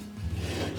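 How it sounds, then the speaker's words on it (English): A metal blade is drawn across a hand sharpening stone in one short, gritty rasping stroke, close and clear with no voices. "sharpening it with a hand stone."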